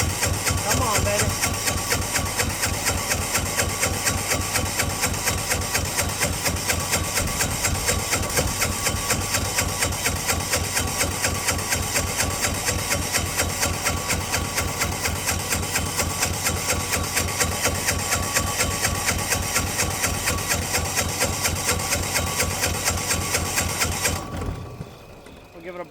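A diesel engine started after its glow plugs are run, a steady close rhythmic knocking drone that holds evenly for over twenty seconds before dying away and falling silent near the end.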